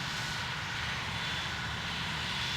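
Boeing 747 engines in Flight Simulator X give a steady, unbroken roar with a broad hiss on top, loud and continuous with no talking.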